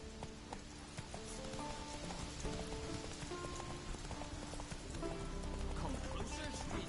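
Hooves of the horse Roach in The Witcher 3: Wild Hunt, a steady clip-clop of hoofbeats over a wash of rain, with a voice speaking over it.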